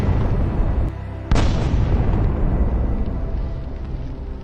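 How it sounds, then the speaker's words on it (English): A Javelin missile hits and destroys a Russian armored vehicle in war footage, with a single loud, close blast that cuts in sharply and decays into a long rumbling roar. "Then the javelin destroys another Russian armored vehicle."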